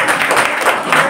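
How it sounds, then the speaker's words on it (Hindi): Audience applause at a school Republic Day prize-giving ceremony at an inter college, a dense, steady burst of clapping throughout. "ताली बजाओ इसे।"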